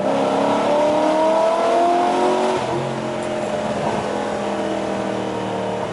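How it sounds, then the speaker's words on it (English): A modified Chevy Caprice police car engine with open exhaust headers drones loudly and steadily, revs winding down after a few seconds into a rougher, lower rumble with faint burbling pops from the exhaust. "Oh, the back burbles."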